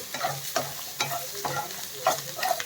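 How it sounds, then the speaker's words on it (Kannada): Egg roast frying in a pan with garam masala, a steady sizzle broken by repeated stirring scrapes at roughly half-second intervals, close and moderately loud with no talking. "ಇದನ್ನು ಒಂದು ಟೂ ಮಿನಿಟ್ಸು ಫ್ರೈ ಮಾಡಿಕೊಂಡ್ರೆ ಎಗ್ ರೋಸ್ಟು ರೆಡಿ ಆಯಿತು"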